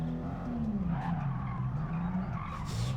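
A Toyota Mark IV Supra drift car launches from the gate at an Autopolis street-tour qualifying run, its engine roaring loud and close and climbing in pitch while the tires squeal and skid throughout.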